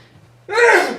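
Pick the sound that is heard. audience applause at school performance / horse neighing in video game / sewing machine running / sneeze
sneeze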